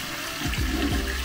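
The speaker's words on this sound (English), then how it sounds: "Flush that bad boy." A hotel bathroom toilet flushes in a wall-mounted system with built-in plumbing, giving a steady close rush of water with gurgling surges and no talking.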